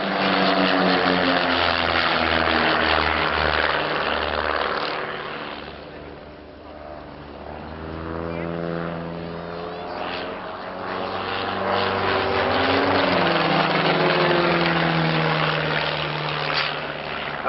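Vintage propeller aircraft flying a synchronized aerobatic display at Old Warden in England, rolls, splits and stall turns, engines droning loud then fading and swelling as they pass, under an announcer's commentary.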